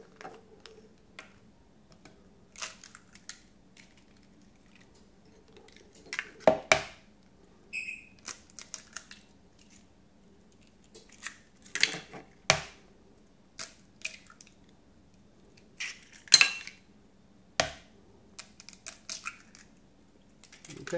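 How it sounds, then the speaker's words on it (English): Eggs cracked one after another into a bowl of warmed cream cheese and butter for a keto pound cake mix, giving sharp, close taps and cracks spaced out across a quiet kitchen with a faint background hum. "Now I'll add the eggs."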